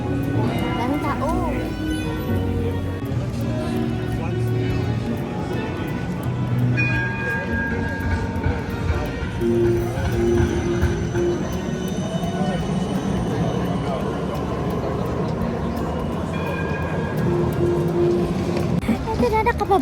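A train carriage on a Melbourne ride gives a steady, fairly loud rumble and rattle throughout, with people talking over it and crowd noise around.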